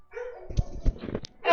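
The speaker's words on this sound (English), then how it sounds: "Dogs lost their shit, and I'm pretty sure I know why." Several dogs break into excited barks and yips, a few quick overlapping outbursts close by, with a whimpering tone mixed in.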